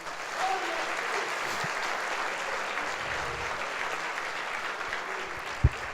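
Churchgoers at a Sunday service applauding together, a steady, dense wash of clapping filling the room from start to finish, with a single sharp knock near the end.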